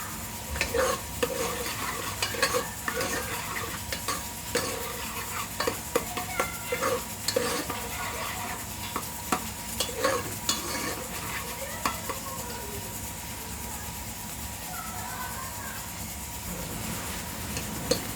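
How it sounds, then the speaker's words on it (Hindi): Onions sizzle quietly in a hot pan while a spoon scrapes and stirs in irregular bursts, with occasional clinks against the metal, as they fry toward golden for a black chickpea curry. "हमने प्याज डाला है, तकरीबन 2 बूटे प्याज के डाले हैं। अब इसको सुनहरा करेंगे।"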